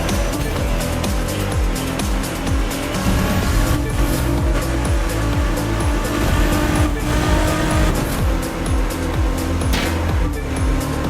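Race cars in The Crew 2 video game roar continuously at high speed, loud and dense engine noise with tire squeals and passing whooshes throughout, no voices.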